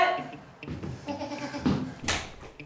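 A goat bleats in a living room, a wavering, nasal cry that rises and falls over a couple of seconds, followed by a sharp knock or bump.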